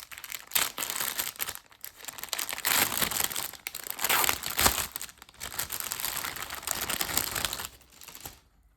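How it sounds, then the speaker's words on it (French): A plastic pouch of cross-stitch threads is opened and handled up close, giving sustained crinkling and rustling in bursts with brief pauses between them. "Alors, je vais les ouvrir. Ils sont dans une pochette à part."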